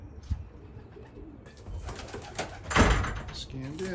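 A racing pigeon coos at its loft during an old-bird race, soft low coos repeating among shuffling and other faint background sounds.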